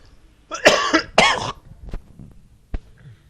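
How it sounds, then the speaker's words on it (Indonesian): Two harsh coughs in quick succession, followed by a couple of faint short throat sounds, close to the listener. "sorry agak batuk dikit."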